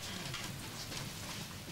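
Rain falling steadily during practice week at the Isle of Man TT motorcycle races, a continuous broadband hiss at low, even level throughout with no voices.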